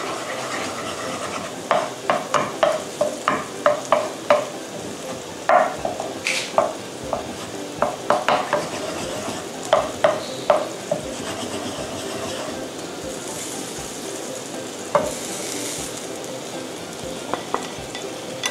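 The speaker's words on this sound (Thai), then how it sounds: "พอกะทิเดือดนะคะเราก็เอาผงกะหรี่เนี่ยค่ะใส่ลงไปผัดกับกะทินะคะ" Curry powder being stirred and fried in boiling coconut milk, with a steady sizzle under a string of sharp utensil scrapes and taps against the pan at an uneven, busy rhythm.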